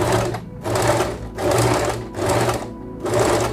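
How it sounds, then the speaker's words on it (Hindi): Usha Janome sewing machine runs an overlock-style stitch in four quick, loud bursts, its rapid needle chatter stopping briefly between each run. "ये जस्ट सिलाई करेगा ओवरलॉक वाली स्टिच की तरह, तो ये कपड़ा काटेगा नहीं"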